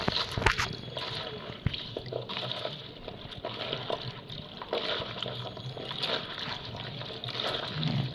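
Running water splashing at a basin as cut vegetables are washed by hand, a faint, steady trickle and splatter with occasional sharper clatters, quiet and close.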